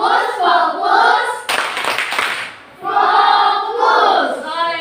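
A classroom 'tepuk fokus' clap routine, with children's voices chanting in rhythm around a brief burst of sharp hand claps in the middle, loud and close.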